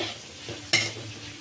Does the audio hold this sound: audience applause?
no